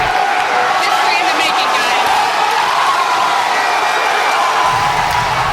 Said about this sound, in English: crowd went ballistic after a successful space flight in Florida last night